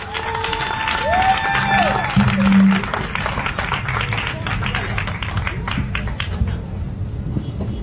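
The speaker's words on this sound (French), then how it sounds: "veuillons accueillir notre excellent, notre talentueux slammer sous vos applaudissements" An audience gives sustained applause with scattered cheers to welcome a slam poet onto the stage. The clapping stays dense and even across the whole stretch, with a few tonal sounds early on.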